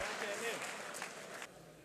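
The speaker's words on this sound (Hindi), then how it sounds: "आपकी भरपूर तालियों में जनाबे राकिब मुख्तार" An audience at a mushaira poetry gathering in Khushab claps to welcome a poet, a short burst of moderately loud applause that fades quickly, with a voice speaking over the start.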